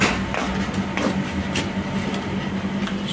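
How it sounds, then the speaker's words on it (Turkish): Air conditioner outdoor units running at nearby houses, a steady continuous motor hum with a low tonal drone and broadband whir, moderately loud and unbroken, with no talk over it. "Klima motorlarının sesi var bayağı bir."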